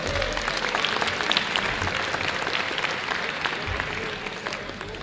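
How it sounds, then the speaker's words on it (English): Applause from a banquet audience at a sports hall of fame ceremony, a dense, steady wash of many hands clapping that carries on at an even level throughout, with little talk over it. "So give yourselves a round of applause."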